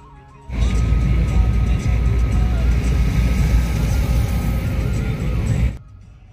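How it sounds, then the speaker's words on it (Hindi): Road traffic in Rishikesh, heard as a loud, close vehicle roaring past for several seconds with engine drone and tyre noise, starting and ending abruptly against a quieter background. "यहाँ ऋषिकेश तो पहुँचते ही आप देखिए ट्रैफिक का सामना हमें करना पड़ रहा है"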